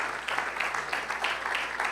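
A church congregation claps together during a Spanish-language service, a loud, close burst of rhythmic group applause lasting a couple of seconds.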